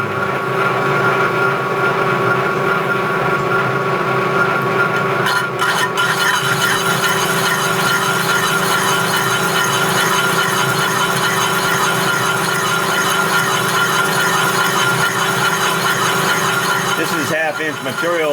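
Machine cutting thin metal with oil lubrication and light feed, a loud continuous tinny ringing whine as chips come off, steady throughout with a brief change near the end.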